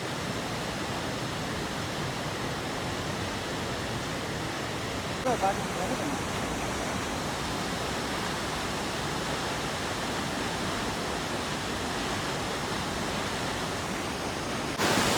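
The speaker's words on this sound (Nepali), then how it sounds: "अब झर्ना चाहिँ यहाँ यत्रो ठुलो हेर्नुहोस् न कतिदेखि आएको" A large waterfall at Khado Dorjee Fakmo in Paro, Bhutan roars continuously, a dense, even rush of falling water close by, with a faint voice briefly heard over it.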